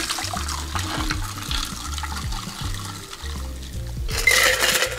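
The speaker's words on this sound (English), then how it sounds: "we will just fine strain this to keep out any chunks of ice or lemon pulp" A shaken cocktail is fine strained into a classic coupe glass, with liquid pouring and trickling steadily alongside clinks of ice against the strainer and shaker, close up and without talk.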